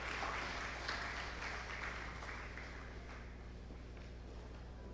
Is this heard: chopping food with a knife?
no